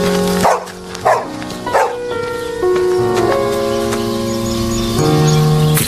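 A dog barks in a few loud, sharp bursts near the start, then a steady musical score carries the rest, with no talking.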